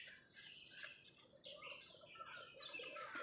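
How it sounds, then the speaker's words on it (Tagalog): Chickens and other birds cluck and chirp close by beside a potato planting spot, in a fairly faint, busy mix of short calls. "Dinig nyo naman guys, maingay mga ibon."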